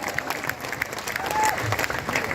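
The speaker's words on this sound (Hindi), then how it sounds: "सभी बच्चे खड़े होके एक बार RW वाले के लिए ताली बजाएंगे, बहुत तगड़ी ताली" A crowd of students claps loudly and continuously, dense steady applause filling the classroom.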